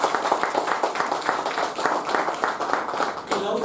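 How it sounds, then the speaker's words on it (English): A Toastmasters meeting audience applauds steadily in a small room, the dense patter of clapping hands holding at an even level throughout. "Can I have a round of applause?"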